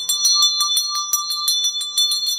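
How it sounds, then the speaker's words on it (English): A throat chakra singing bowl rings with a bright, sustained metallic tone, pulsing in quick, regular strikes close to the listener. "That's my throat chakra bowl."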